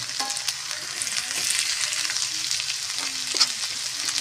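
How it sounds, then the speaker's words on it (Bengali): Chopped onions fry in oil after potatoes were browned for a sea fish curry, a steady close sizzle with occasional spatula stirs and scrapes throughout. "পেঁয়াজটা এবারে তেলের সঙ্গে ভেজে নেব।"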